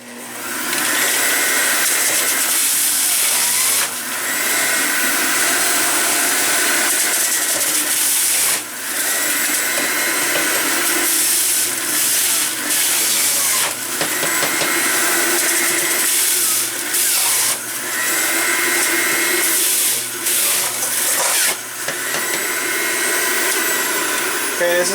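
Electric juicer with a wide 3.3-inch chute grinding oranges, a loud continuous motor whine with rhythmic dips as fruit is pushed through, close up, with a voice speaking faintly beneath.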